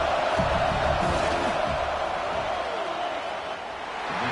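A Michigan football stadium crowd roars steadily while the kicker lines up a field goal attempt, a dense, loud wash of voices that eases slightly toward the end.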